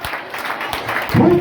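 Crowd applause greets guests at a school toppers' award ceremony, a fairly loud continuous patter that swells toward the end.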